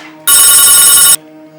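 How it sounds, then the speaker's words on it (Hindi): A telephone rings loudly in a single electronic burst of just under a second, heard alone in a quiet room. "टेलीफोन बड़ा बजता है।"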